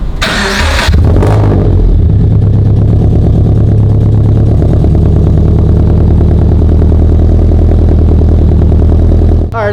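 Subaru BRZ with a new aftermarket exhaust starting up: a sharp crank and catch, then a loud, steady, deep raspy idle close to the exhaust, running alone.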